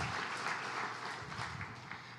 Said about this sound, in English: Another round of applause for our mayor.